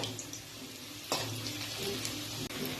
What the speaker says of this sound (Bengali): দেখো এরকম উল্টে পাল্টে একটু এইভাবে ভেজে নিতে হবে